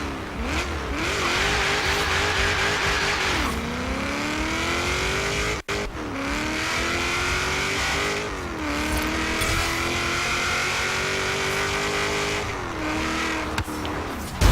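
In the Forza Horizon 3 video game, a supercharged 2000 Mustang Cobra R launches with a loud, sustained engine roar and supercharger whine, climbing through rising revs and gear changes over roughly fourteen seconds, with no talking.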